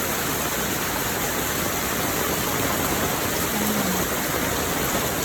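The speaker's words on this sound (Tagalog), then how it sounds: "Super lakas ng ulan guys." Heavy rain pours down steadily on a rainy morning, a dense, loud, unbroken roar of falling water that fills the whole clip with no voices.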